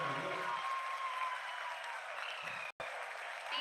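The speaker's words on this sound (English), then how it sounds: "people are applauding." Sustained applause fills the room as people celebrate the Chandrayaan-3 soft landing at the moon, a dense continuous clapping at moderate distance, with a brief dropout near the end.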